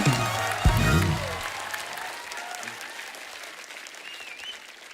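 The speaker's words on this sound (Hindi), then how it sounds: "एक बार जोरदार तालियां हमारे मेहमानों के लिए।" Studio audience applause on a Hindi TV comedy show, loud clapping at first with a low thump, then fading steadily as it carries on.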